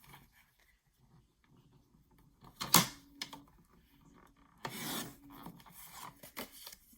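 A paper cutter slices through cardstock in two quick rasping strokes, one sharp and one longer, between soft handling rustles and light clicks in a quiet room.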